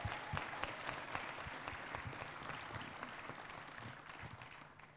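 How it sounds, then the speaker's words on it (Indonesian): Sustained applause from a large audience at an Indonesian political party gathering, dense and steady for the whole stretch, fading slightly toward the end. "tepuk tangan yang paling meriah buat sis Grace Natalie."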